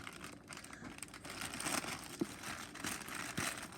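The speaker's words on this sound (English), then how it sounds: "hold the bag up and I'll cut it" A plastic cake mix bag is cut open in a home kitchen, with a faint, close crinkling that goes on steadily, broken by a couple of sharp little snips.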